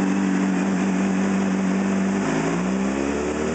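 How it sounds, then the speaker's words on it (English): A Honda CBR600RR motorcycle fitted with an Akrapovic exhaust idles up close, a steady loud low burble that dips slightly in pitch partway through, with no one speaking. "he said I'd let you hear the exhaust on it"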